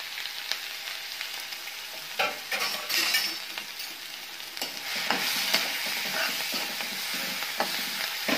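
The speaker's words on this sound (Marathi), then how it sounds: "जिरं तळलं आपण हिरव्या मिरचीचा ठेचा टाकून घ्यायचा।" Green chili paste dropped into hot oil with fried cumin for an alu leaf bhaji, a close crackling sizzle broken by scraping stirs and sharp spatula knocks against the pan, with no voices.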